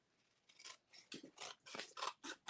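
Scissors snipping paper close up while fussy cutting a stamped piece for a handmade card, a quick run of about seven short crisp cuts, quiet and alone.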